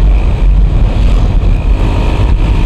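A motorcycle on a Batangas ride sounds a loud, close engine drone with a rumbling low end and wind rush, steady throughout with small fluctuations in intensity.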